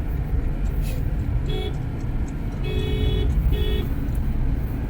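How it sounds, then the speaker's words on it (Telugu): Several short car horn toots on a mountain ghat road toward Manali, a quick one then a longer double honk, over steady road and engine noise with traffic rumbling throughout. "మనమైతే మాత్రం ఖచ్చితంగా హార్న్ కొట్టే వెళ్తున్నాము"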